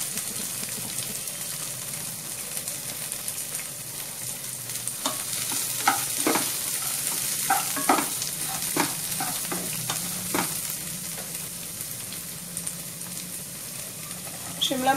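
Beans, chopped carrot and capsicum stir-frying in a pan, a steady sizzle punctuated by scattered scrapes and clacks of a spatula stirring through the vegetables, close and moderately loud.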